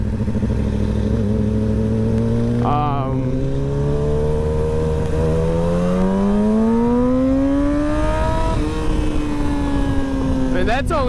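A Yamaha R6 motorcycle engine screaming at high revs around 10,000 RPM in second gear, loud and close, its pitch climbing steadily, then dipping and rising again under continuous wind and road roar.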